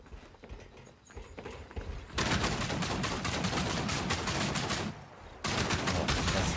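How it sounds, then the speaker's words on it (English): A gun fires in Outcast – A New Beginning, starting with quieter scattered shots. Loud, rapid bursts follow, briefly drop off, then resume at full volume, close and sustained. "That gun sounds great now."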